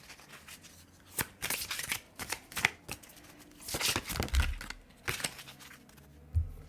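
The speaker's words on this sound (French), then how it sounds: "Bon, on va vous prendre une carte conseil." Oracle cards being shuffled and an advice card drawn from the deck, a series of crisp riffling and flicking bursts at irregular intervals, close and fairly quiet.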